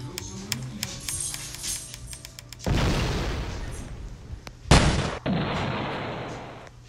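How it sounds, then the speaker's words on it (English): A bomb goes off in a Roblox video game after a stretch of clicky, rattling game noise: a sudden broad blast that rumbles for about two seconds, then a sharp crack and a further noisy burst. "Let's bomb this piece."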